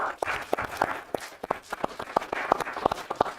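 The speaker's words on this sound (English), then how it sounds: "So give them a round of applause" Sparse audience applause at a city commission meeting: a small group claps in scattered, distinct sharp cracks, moderately close, irregular and thin rather than a full ovation.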